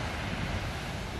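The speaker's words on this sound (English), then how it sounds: "giant waves come crashing in and throw spray and foam everywhere" Ocean waves crashing with spray and foam, a steady broad roar of surf and wind noise, loud and close.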